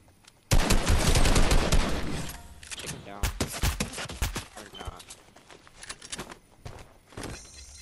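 A loud shotgun blast fires in a battle royale video game, followed by scattered shots and clattering footsteps while players talk excitedly over the action.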